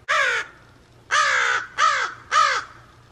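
A crow caws four times: one harsh call, a pause, then three quick calls close together. Each call is loud and near, with almost no background noise.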